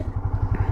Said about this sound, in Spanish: Arranca la moto muy bien desde abajo gracias a su torque.